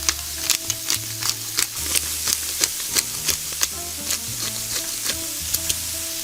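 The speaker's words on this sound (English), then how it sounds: "The vegetables should be thoroughly fried to achieve the acquired taste." Onions and carrots fry in a pan, a continuous close sizzle broken by regular sharp scrapes of a utensil stirring the vegetables, with no talking.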